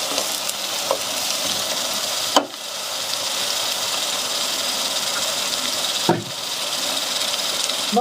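Chopped onions and garlic fry in a pan, giving a continuous bright sizzle with a couple of sharper clatters as they are stirred.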